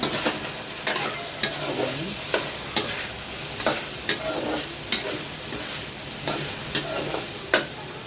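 Ingredients pop and crackle while frying in a pan, with a steady sizzle and sharp pops coming roughly every second, close and fairly loud.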